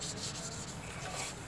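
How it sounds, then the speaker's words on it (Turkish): Steady, continuous sanding of a car headlight with 600-grit sandpaper, a gritty abrasive rubbing heard close up without pause and with no voices. "600'lük zımparayla bu şekilde zımparalıyoruz"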